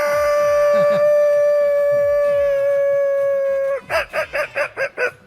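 A man imitates a dog howling on a comedy show, holding one long, steady, loud wail that breaks off into a quick series of short yelping bursts, with faint voices underneath.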